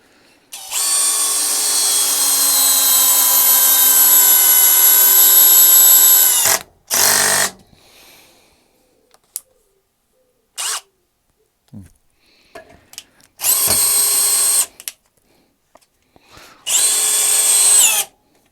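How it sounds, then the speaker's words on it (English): A brushless 18V cordless drill, a Makita clone, whirs loudly into wood without a pilot hole in one long, steady run, then in several shorter bursts separated by silence. "This is no pilot hole, so we're just drilling it straight into the wood."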